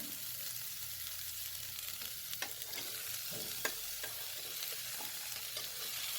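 Spinach (palak) hits a pan of frying moong dal for palak palya, giving a soft steady sizzle with scattered light scrapes and stirring clicks, fairly quiet and with no talk.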